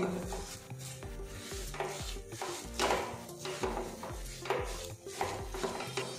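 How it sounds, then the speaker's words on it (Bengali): Carrot and milk powder filling mashed with a spatula in a pan, giving repeated close scraping and stirring strokes with soft sizzling underneath, steady and rhythmic. "আর এই পুরটা কিন্তু স্প্যাচুলার দিয়ে অনবরত এইভাবে ম্যাশ করে নিতে হবে"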